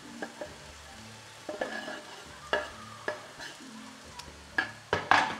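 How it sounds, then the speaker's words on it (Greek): Spinach filling with fresh parsley and dill stirred in a pan, soft sizzling broken by intermittent scraping and spoon knocks against the pan, growing sharper toward the end. "Ανακατεύω."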